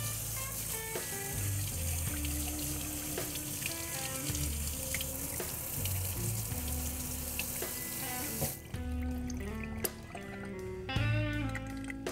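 Tap water runs steadily into a sink as a gun part is rinsed under it, a continuous close splash that lasts the whole stretch alongside tonal background sound.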